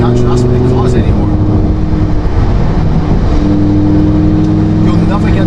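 A Lamborghini Huracan with a naturally aspirated engine revs and holds high, steady tones, dropping briefly before climbing again, loud and close with a voice talking over the engine.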